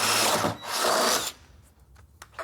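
A power drill bores a hole in the body panel of a Mazda 323 GTX during frame machine dent repair, with two close, loud grinding bursts followed by quieter knocks and handling.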